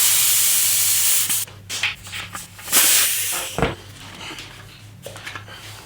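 A continuous spray-like hiss from tire sealant being pushed through a valve stem on a Vittoria Terreno T30 700x40c tire, followed by a few rubbing and squeaking sounds that trail off, close-up.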